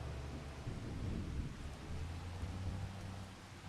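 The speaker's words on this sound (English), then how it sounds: "I would like the sound of the rain to go away." Steady rain and low rumbling thunder from the video game Farming Simulator 25 make a continuous, fairly quiet hiss with a deep rumble underneath, and no voices.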